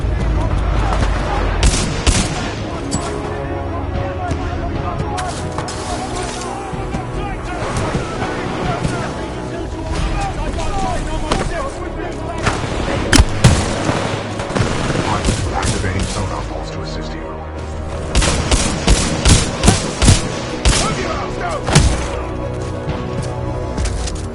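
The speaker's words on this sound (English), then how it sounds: "Commencing supporting fire." Supporting gunfire in a video game rings out in repeated bursts and sharp cracks over a steady roaring wash, loud and close, with a voice speaking at points.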